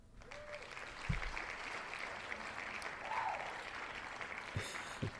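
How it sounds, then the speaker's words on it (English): Scattered clapping from a small group fills the background steadily at moderate volume, with a few sharper, louder claps standing out near the start and toward the end. "The clapping's hilarious."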